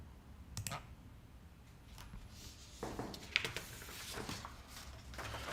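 A single mouse click confirming an on-screen dialog in Grid 3 software, a faint, sharp tap over low room noise with a few soft rustles around it and no voices.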